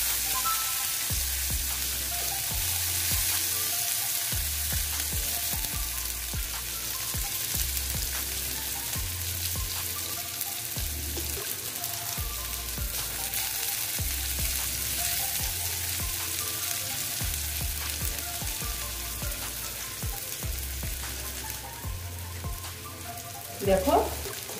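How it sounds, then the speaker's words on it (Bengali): Chopped onion frying in a pan for a Bengali koi fish mustard-poppy seed curry, a steady close crackling sizzle throughout with periodic low thumps of stirring. "পেঁয়াজ কুচি দিয়ে আমি ভালো মতন এটাকে ভেজে নেব।"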